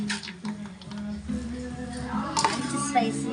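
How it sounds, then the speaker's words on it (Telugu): Tempering spices are stirred into gongura rice with a spoon in a metal vessel, giving close, irregular scraping and light clinking over a steady background hum. "పోపు సామాన్లు వేసుకున్నాం కదా, కలిపేస్తాం."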